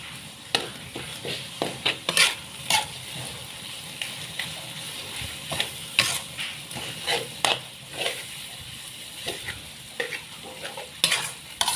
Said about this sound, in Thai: ปลาลงไปผัด